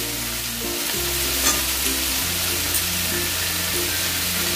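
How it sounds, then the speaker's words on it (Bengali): Vegetables and stalks for Bengali shukto fry in a pan over a high flame, a dense, steady sizzle with a continuous low hum beneath, loud and close with no clear breaks. "দেখো, আমি হাই ফ্লেমে প্রায় 5-7 মিনিটের মতো সবজিগুলোকে ভালো করে ভেজে নিলাম। এবারে আমি ডাঁটাগুলোকে দিয়ে দেবো।"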